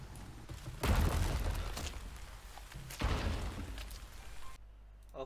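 Steady rain hiss in Resident Evil 4 Remake, swelling into two louder broadband gusts before cutting to near quiet at the end.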